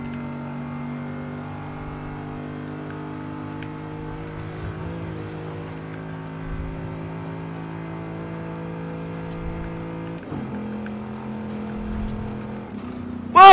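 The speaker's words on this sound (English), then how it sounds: "the engine in this car just sounds absolutely, like, phenomenal, man. Just the shifting of the gears and everything." Lamborghini Urus in Forza Horizon 5 with a steady engine drone, gears shifting at several points and the revs briefly climbing near the end.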